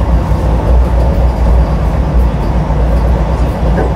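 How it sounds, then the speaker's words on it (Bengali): Vande Bharat Express train on the Howrah to Puri run entering Balasore station, a loud steady rumble of wheels and carriage noise throughout with no clear horn. "ট্রেন ঢুকছে আমাদের বালাসর,"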